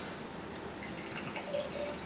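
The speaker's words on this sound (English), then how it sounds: "So let's stop talking and start pouring." A hazy Double IPA is poured from a can into a glass, giving a continuous foamy splashing rush that stays close and steady throughout, with no talking.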